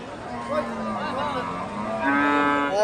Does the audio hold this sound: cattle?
yes